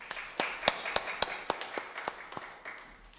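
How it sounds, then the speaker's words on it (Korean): Congregation at a Sunday worship service in a church giving a short round of claps, about a dozen distinct sharp hand claps in a loose, uneven rhythm, fairly close and moderately loud, with no talking. "우리 하나님께 영광의 박수 드리겠습니다"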